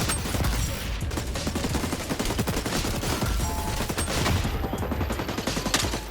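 Rapid video game gunfire fills the clip, dense overlapping shots and bursts in continuous volleys at steady loudness, with no voice over it.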